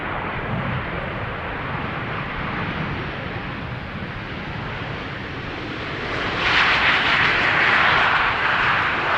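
A KLM airliner arrives at high speed on runway 18R at Amsterdam Schiphol, a loud, steady jet roar that swells and brightens as it passes close.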